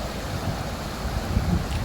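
Floodwater after heavy rain rushing over the Sina river bridge, a steady broad roar of flowing water with wind, continuous and fairly distant, no voices.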